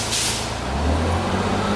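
A Roam Transit bus in Banff lets out a hissing air-brake release, a bright burst of air over a steady low engine idle, heard close and alone.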